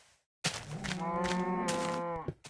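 A single drawn-out cow moo from the video game Minecraft, loud and close, rising briefly then holding a steady tone for well over a second before cutting off.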